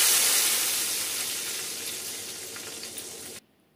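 Tempering of cumin, mustard seeds, dried chilli, crushed garlic, fenugreek powder, asafoetida and curry leaves sizzles loudly and steadily in a small kadai as a continuous hiss, fading slightly before cutting off abruptly near the end.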